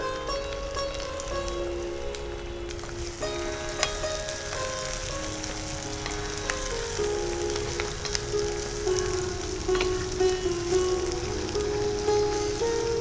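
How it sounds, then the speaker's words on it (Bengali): Chopped garlic, ginger and green chilli fry in oil in a pan in an open-air kitchen, giving a steady, close sizzle with occasional pops and stirring scrapes throughout. "বেশ লাল করে ভাজা ভাজা করব"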